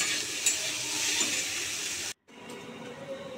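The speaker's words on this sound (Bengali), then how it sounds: "সয়াবিনটা ভালো করে ভেজে দিলাম" Soybean chunks fry in a wok, giving a steady, fairly close hiss of sizzling that cuts out for a moment near the middle, then resumes slightly quieter.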